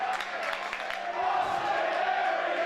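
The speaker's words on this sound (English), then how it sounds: "listen to the crowd." Wrestling fans at an independent show cheer for Austin Aries, a broad roar of crowd noise with some shouts and whoops, while a commentator talks over it.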